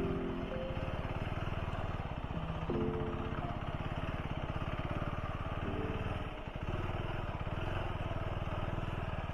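An adventure motorcycle thrums steadily along a rough off-road track, its engine note shifting slightly with throttle changes, close and continuous with some wind and rumble.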